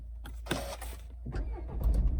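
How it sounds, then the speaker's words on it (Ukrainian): A 2013 Honda CR-V 2.2 diesel engine cranks briefly and catches, settling into a low rumbling idle close by. "заводиться з півоберта, дуже добре все."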